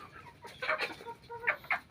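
A young hen clucks in a few short bursts near the microphone, with brief pauses between the calls.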